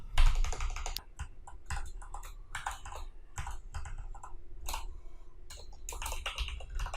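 Dense, irregular keystrokes on a computer keyboard while PHP code is typed, close to the mic, with a few louder clacks standing out from the steady clatter.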